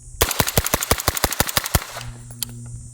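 A rapid burst of fully automatic gunfire, about fourteen sharp, evenly spaced shots fired in under two seconds, loud and close, then stopping abruptly into quiet.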